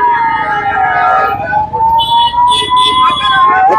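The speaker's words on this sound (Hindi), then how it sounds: "आपके साइड में एम्बुलेंस आई हुई," An ambulance siren wails in a street in Amritsar, a steady rising and falling tone that stays loud throughout as it passes close by, with a voice talking over it.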